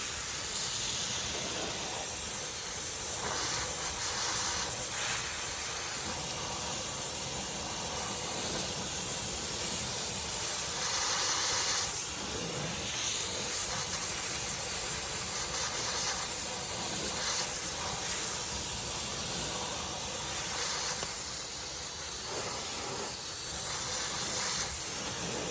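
Steady, loud water spray hissing continuously as a foamed car wheel is rinsed, close and unbroken throughout with slight shifts in intensity as the stream moves.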